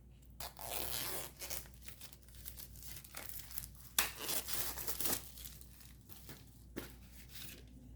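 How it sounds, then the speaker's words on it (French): Crinkling and tearing of plastic packaging as a diamond painting kit is unwrapped, close and busy with irregular rustling bursts and no talk. "je vais essayer de vous le déballer pour vous le montrer"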